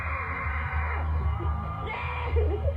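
A large crowd screams and cheers continuously in an arena at a talent show grand final, a dense roar of voices with occasional louder whoops, heard from within the audience.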